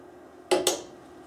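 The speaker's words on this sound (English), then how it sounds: "I'm going to mix it so all that seasoning mix well together" A utensil scrapes twice against a pan, stirring a seasoned potato gratin mixture for a Gratin Dauphinois, two quick close scrapes over near silence.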